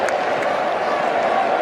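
A large cricket stadium crowd applauds in a dense, continuous wash of clapping that holds at an even, loud level throughout.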